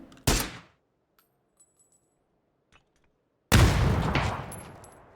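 Two loud in-game gunshots in PUBG, a sharp blast early on and a heavier one later with a long decaying tail, separated by near silence with a few faint clicks.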